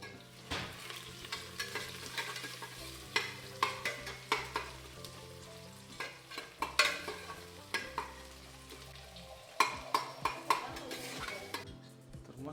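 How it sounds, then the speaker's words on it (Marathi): Onion frying in oil in a home kitchen, sizzling steadily while a spoon stirs and scrapes against the pan in repeated knocks and clinks, close up and with no talking. "कांदा परतून घ्यायचा तेलामध्ये चांगला फ्राय तर परतून घ्यायचा"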